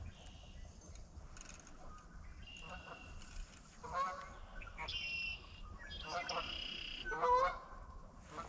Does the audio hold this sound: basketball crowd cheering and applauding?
no